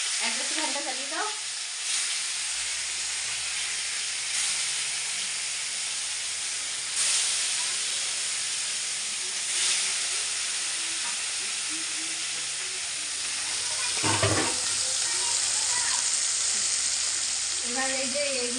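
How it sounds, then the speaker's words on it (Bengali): Catla fish sizzles and spits in hot oil in a home kitchen, a steady frying hiss that swells and settles, with someone talking over it now and then. "এই যে এখন মাছটা করবো। আর তেল জ্বলে গেল।"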